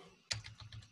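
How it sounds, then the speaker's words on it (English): Keys clatter on a computer keyboard as text is typed into a web host manager's search box, a short quiet run of soft clicks close by. "just if you type in the search box"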